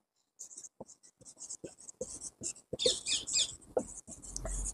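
A pen or chalk scratches across a board as substituent names are written in an organic chemistry lesson, with quick, irregular strokes and taps that come close together and sound fairly faint, with no talk.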